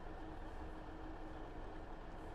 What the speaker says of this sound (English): The diesel engine's quite loud